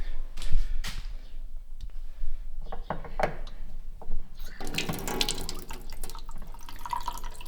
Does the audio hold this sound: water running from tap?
yes